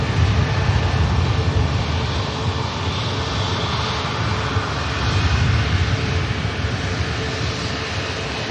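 Aircraft engines at Manchester Airport's Terminal 2 give a steady, loud broadband roar that swells slightly as one engine revs, a continuous rumble with no talk over it.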